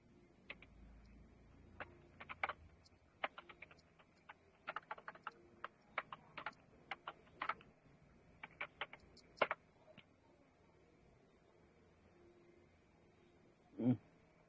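Faint, quick computer keyboard typing in irregular bursts of clicks while code is written for inserting rows in a spreadsheet, fairly close and quiet, ending with a single louder knock.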